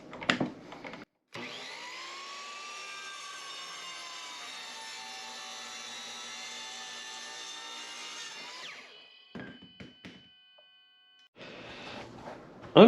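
A saw cuts a wooden MLB baseball bat in half with a steady, close whine lasting several seconds, then winds down, followed by short bursts of workshop noise.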